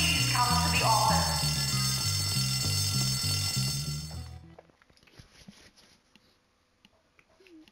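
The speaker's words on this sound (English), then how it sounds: "If anyone saw who pulled the fire alarm, please come to the office." A fire alarm in the video game Bully rings loudly in a steady repeating pattern for about four seconds, then cuts off, leaving faint game ambience and soft background sounds.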